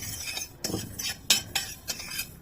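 A metal spoon stirs sesame seeds roasting in a heavy pan with the heat switched off. It scrapes and clinks in several loud, close strokes, with a steady background hiss and no talking.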